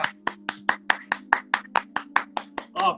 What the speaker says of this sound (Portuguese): Ó, palmas.